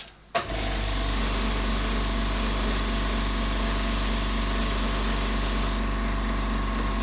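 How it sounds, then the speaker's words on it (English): Paint sprayed onto a painting, a sharp hiss that starts abruptly and holds steady and close for several seconds, backed by a low constant motor hum, with no talking. "Right, spray the end."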